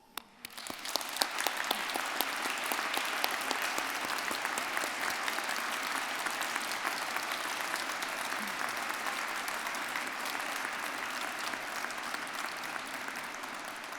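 A large crowd at a university degree ceremony in Ely applauds graduates' families and friends, with steady, dense clapping that starts abruptly and holds at an even level throughout, broad and sustained without a voice over it.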